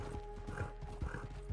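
Horse hooves clip-clop in the video game Red Dead Online, a lame horse walking with a few soft, uneven thuds over a low steady game background hum.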